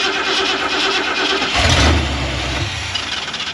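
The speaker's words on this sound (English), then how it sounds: "I'm gonna turn the engine over, it won't start, and then we're gonna start spraying in the back of the carb" A carbureted engine is sprayed at the intake and then cranks over. It catches briefly with a low, rough burst of combustion before fading back, heard close against a steady hiss of background noise.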